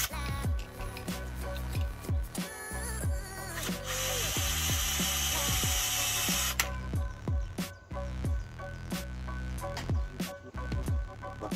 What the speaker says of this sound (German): ich habe mir jetzt einen 10er Maulschlüssel genommen und meinen Akkuschrauber